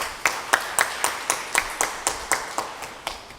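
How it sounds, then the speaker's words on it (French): Clapping at an entrepreneurship conference held in the Abomey-Calavi town hall comes as a regular, evenly spaced beat of sharp claps, about four per second, moderately quiet and unaccompanied by speech. "qui mérite nos applaudissements, s'il vous plaît"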